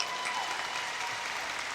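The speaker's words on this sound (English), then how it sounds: "Let's give her a round of applause." Steady applause at the Louisville Urban League Derby Gala, a sustained even wash of clapping from the audience, moderately distant and without talk.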